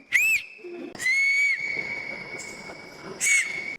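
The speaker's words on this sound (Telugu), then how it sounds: "విజిల్ వేస్తా చూడండి ఎట్లా వచ్చిద్దో రీసౌండ్ మామూలు లేదు" Three sharp whistles ring out in a cave, each followed by a sustained echoing tone that hangs in the space, a long reverberant tail between blasts.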